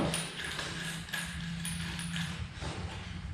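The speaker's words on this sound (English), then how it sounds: "it is a 5/8 inch socket that you'll need to attach your pegs with a small extension" A ratchet turning a 5/8 inch socket on a small extension to fasten pegs on a Yamaha Zuma scooter, steady quiet clicking at close range with a few sharper clacks.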